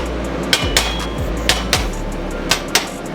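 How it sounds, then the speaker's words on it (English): A hammer taps a part into a TIG welding torch in a workshop, sharp metallic strikes arriving in quick pairs, about eight in all, close and crisp over a low hum. "I'm going to go ahead and hammer this in here."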